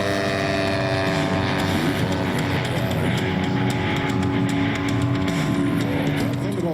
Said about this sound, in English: Thunderbolt's got a ZDZ 90cc 2-stroke